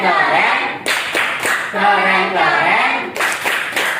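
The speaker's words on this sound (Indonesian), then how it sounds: "Oke, tepuk keren." Classroom of students doing a rhythmic cheer clap in short patterned bursts, with a voice chanting between and over the claps.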